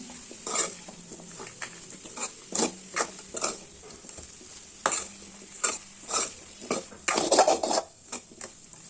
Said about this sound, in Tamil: இப்போ நல்லா மிக்ஸ் பண்ணி விடுங்க ஒரு டூ மினிட்ஸ் நல்லா வதங்கினா போதும்